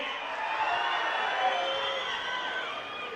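A large crowd at an outdoor political rally roars and cheers in a steady, continuous wash of voices, with clapping blended into the sustained din.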